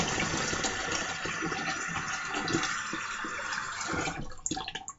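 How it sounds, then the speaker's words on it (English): Running water pours steadily into a sink as it is emptied and hands are washed under the tap, a continuous splashing rush that breaks into uneven drips and splashes near the end. "So I'm going to empty my sink and I'm going to wash my hands"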